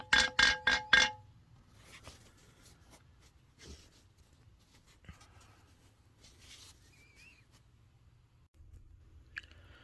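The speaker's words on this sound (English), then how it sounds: "Here's your solenoid that dings on the bell, the gong." A Safetran hybrid railroad crossing bell's solenoid strikes the gong four times in quick ringing succession, loud and close, followed by quiet handling noises.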